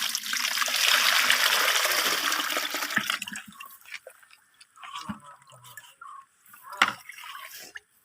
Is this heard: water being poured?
yes